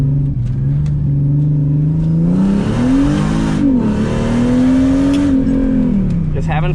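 Mercedes SLK32 AMG with newly installed paddle shifters accelerating: loud, close engine drone rising in pitch, dipping at a gear change and climbing again, heard from inside the car with continuous road noise.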